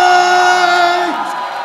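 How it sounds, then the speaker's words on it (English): A boxing crowd at a Knockout Night fight in Dubai cheers for a fighter, a loud, sustained roar with whoops and yells that fades slightly toward the end. "Clearly the crowd favorite, Rohan Day."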